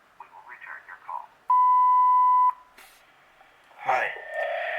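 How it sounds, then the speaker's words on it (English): A VTech CS-6858 DECT 6.0 cordless phone's answering system gives one steady, loud electronic beep lasting about a second. A recorded voice comes before it, and more talk and noise follow. "Please leave your name and phone number after the beep."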